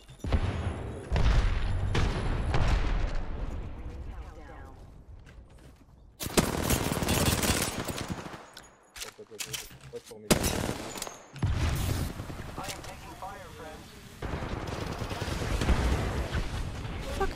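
Gunfire in the battle royale video game Apex Legends: rapid automatic bursts and sharp shots crackle loudly in repeated volleys with brief lulls between, dense and close.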